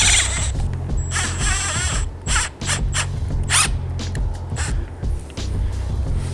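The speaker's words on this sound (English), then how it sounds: "take a drywall screw and just run it in through the seal, right to the meat of it" A drywall screw is driven through an engine seal on a fake Chinese Toyota copy, giving close, loud ratcheting and whirring bursts of a driver with brief pauses between runs.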